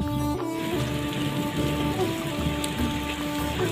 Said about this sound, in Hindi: ये बार बला बारिश शुरू हो गई